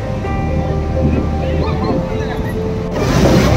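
Large sea waves surge and break near the shore at Ganpatipule. A continuous rumbling wash carries wind buffeting the microphone and swells again near the end, while people talk nearby over it.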